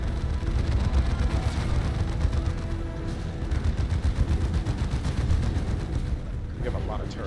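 Rapid volleys of missile turret fire crack and boom in the Dawn of War 2: Chaos Rising video game. The firing is dense and continuous over a rumbling low battle din, with voices talking faintly underneath.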